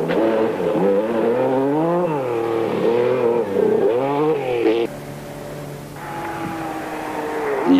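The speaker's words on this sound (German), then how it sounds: "der Schwede Stig Blomqvist auf seinem neuen 16-Ventiler Saab 99. Er fährt fast schulmäßig quer." A 16-valve Saab 99 rally car slides sideways on a stage of the 1976 Sachs Baltic Rally, its engine loud and close, rising and falling in revs with a steady drone and a sudden drop partway through.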